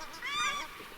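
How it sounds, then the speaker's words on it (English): Ducks give one short, loud honking call rising and fading within a second, carrying across a New Zealand valley during a red stag hunt, with faint background hiss and no talk. "those ducks have just completely spooked the whole valley"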